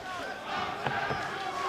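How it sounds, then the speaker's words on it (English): Spectators at a live kickboxing bout cheer and shout in a sustained, rising roar, a dense crowd wash with a few sharper yells breaking through. "The crowd trying to get behind Moxon here"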